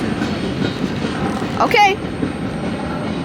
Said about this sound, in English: And that is the end of the train.